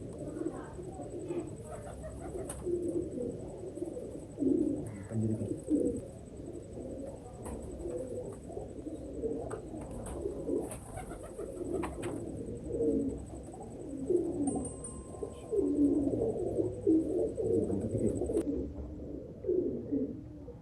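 Pigeons coo in soft, repeated low rolling calls throughout, close by at a pigeon loft with an Urdu-speaking keeper, over a steady faint background hiss.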